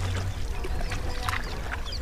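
Strong river current washes around a small wooden rowing boat, a steady close rushing and gurgling of water with irregular splashes and sloshes against the hull.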